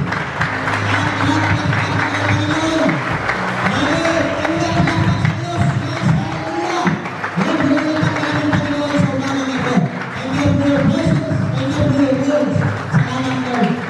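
A church congregation at a Sunday service claps to God, steady rhythmic clapping running throughout beneath loud singing and music.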